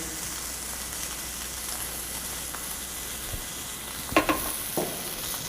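Domestic duck cooks in its own rendered fat in a pan, with peanut butter just added. A constant, close hiss of frying carries on throughout, with a brief cluster of clinks and stirring knocks toward the end.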